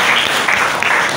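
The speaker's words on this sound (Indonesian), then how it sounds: "kita beri tepuk tangan untuk Fiona." Classroom applause for a student during an Indonesian school lesson, a short, busy patter of many hands clapping close by for about a second.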